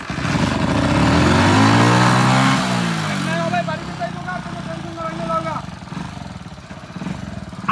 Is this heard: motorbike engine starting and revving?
yes